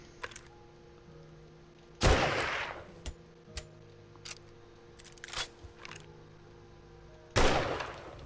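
Pipe rifle fire in the 7 Days To Die video game, two loud sharp shots several seconds apart with smaller clicks and pops in between over a quiet humming background.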